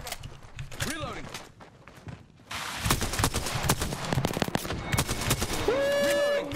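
Rapid automatic gunfire from several weapons at once in Apex Legends, with bursts overlapping into a loud stream of shots and some footsteps, while a player talks over the action.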